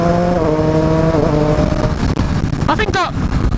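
A Triumph Street Triple 765 RS motorcycle in track mode gives a loud, close engine and induction roar with shifting revs, joined near the end by a brief voice.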